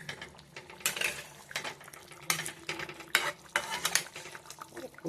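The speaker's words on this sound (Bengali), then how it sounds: "ফুটতেছে, ফুটুক আর একটু, আলুটা একটু সিদ্ধ হবে, হইলেই নামাবো" A pot of rohu fish curry with potato and eggplant bubbles and sizzles faintly, with a string of short, rhythmic bursts of noise close by.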